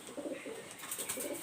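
A pair of pigeons cooing softly at close range, a few low throaty coos in quick succession over a faint background.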